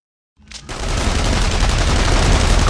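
Sustained gunfire from several weapons erupts in The Saboteur video game, cutting in abruptly out of silence and continuing as dense, loud, overlapping bursts.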